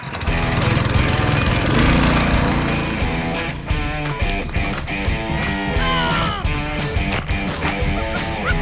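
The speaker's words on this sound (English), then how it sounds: "I'm just about to start the pump for the first time." A small motorised water pump on a homemade toy water sprayer starts up with a loud, buzzing motor whine. It runs steadily, then breaks into rapid stuttering pulses, close and with no talk.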